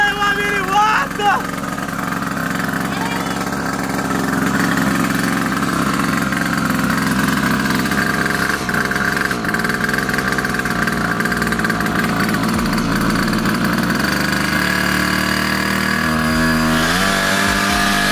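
A small gasoline mini racing motorcycle engine runs close by at a steady buzzing idle with brief revving, while people talk over it.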